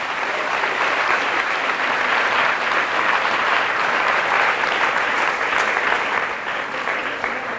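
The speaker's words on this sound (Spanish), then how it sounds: "Fuertes aplausos a Jesús" Sustained, loud applause from a church congregation fills the whole stretch, a steady dense clapping wash with no gaps and no speech over it.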